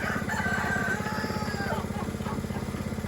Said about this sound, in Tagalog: Yung tandang.